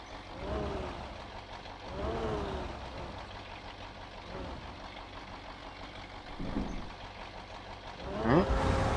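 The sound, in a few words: truck parking in video game Spintires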